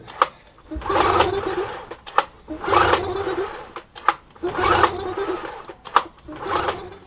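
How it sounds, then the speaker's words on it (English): A submerged two-stroke outboard motor being cranked over and over without catching, five or six rhythmic whirring pulls, each ending in a sharp click, close and loud, with no voice. "Still no luck in getting this motor to start."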